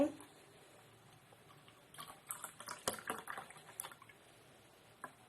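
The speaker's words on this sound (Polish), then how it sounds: "Teraz dolewamy mleka zimnego z lodówki." Cold milk straight from the fridge is poured into dissolved sweetened coffee for iced coffee, giving soft liquid splashes and light clinks that cluster mid-clip, fairly quiet and close.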